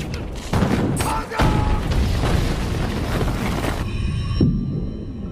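Cannon fire explosions in a war scene, deep rumbling booms with a sustained roar and debris-like crackle, loud and dense throughout, with a sharp burst near the end.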